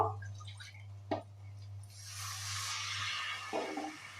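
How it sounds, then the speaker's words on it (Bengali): A little water goes into a hot cooking pan of spices with Kashmiri red chilli powder. A few soft drips come first, then a broad sizzling hiss rises and holds, with a faint low hum underneath. "তো আমি এটাতে একটুখানি জল দেব"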